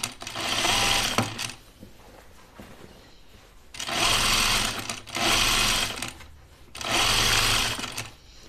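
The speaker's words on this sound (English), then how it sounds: "I'm gonna understitch my facing right now" A sewing machine understitches a facing on linen cotton canvas, running in three or four bursts of rapid rattling stitching separated by short pauses, close and clear.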